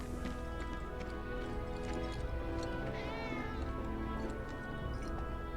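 Cat meows from a cat in the Final Fantasy 7 Remake video game, several soft mewing calls over continuous game music and ambience at steady loudness.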